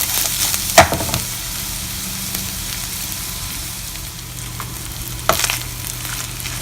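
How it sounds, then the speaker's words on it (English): Ingredients frying in a pan on the stove for coconut rice, a loud, steady close sizzle with a couple of sharp stirring scrapes cutting through. "fry it nicely until the raw smell is gone"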